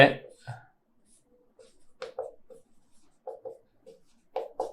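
Short scratchy strokes of writing on a board during a Hindi-medium Class 12 wave optics physics lecture come in quick bursts, with someone speaking briefly at the start.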